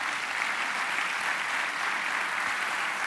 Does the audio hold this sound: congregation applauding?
yes